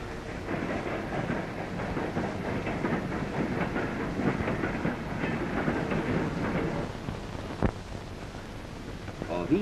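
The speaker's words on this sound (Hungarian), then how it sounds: "Miután a vágány szabad lett, a vonat folytatja útját." Steam locomotive from 1952 operation footage running along the track, a steady rumbling rattle with faint clickety-clack throughout, one sharp knock near the end, no speech over it.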